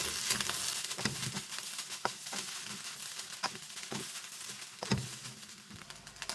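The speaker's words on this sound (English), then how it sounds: "Add the scrambled egg. Mix all together." Scrambled egg sizzles and fries in a hot pan over a high flame for fried rice. A continuous crackle runs throughout, broken by sharp scraping taps as the mixture is stirred.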